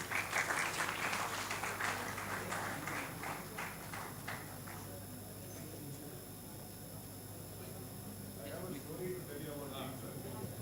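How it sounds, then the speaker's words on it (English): A conference session audience gives a round of applause that is faint and distant, strongest in the first few seconds and then fading into quiet room noise. "Can we have a huge round of applause, please?"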